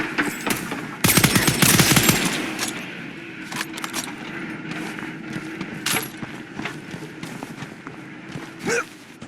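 Rapid SMG bursts crackle in the video game Scavengers, a loud dense volley up front followed by scattered shots, footsteps and clattering gear amid game noise.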